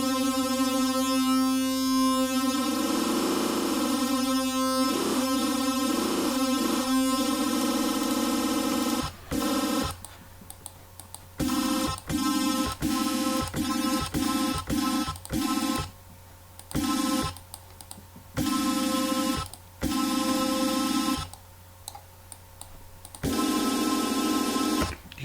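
Additive synthesizer in FL Studio plays a tone with unison set to Hertz mode, a dense buzzing harmonic drone with wobbling beating, then choppy stuttering bursts and gaps, harsh and noisy, no speech.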